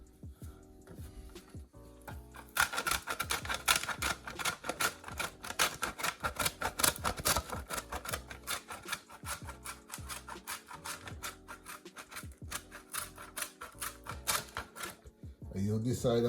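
Frozen butter rubbed against a hand grater while making Jamaican ackee and saltfish patties: a steady run of quick, dry rasping strokes lasting about twelve seconds, close and fairly loud, with quieter handling noises before and after.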